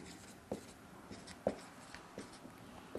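Handwriting during a maths lesson on functions: a few faint scratching pen strokes with small taps, close and quiet, with no talking.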